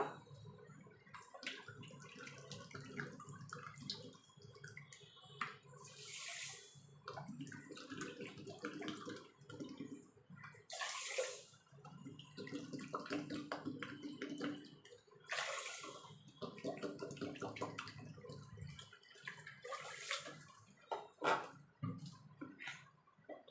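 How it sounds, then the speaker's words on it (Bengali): Water poured from a bowl into a pan of sugar to make syrup for komolabhog sweets, with several splashing, gurgling pours close by and short pauses between them. "3-4 বাটি জল দিয়ে দেব।"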